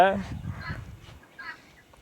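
Native country chickens on a farm give a brief honking, cackling call at the start, followed by softer clucks and rustling. People talk nearby.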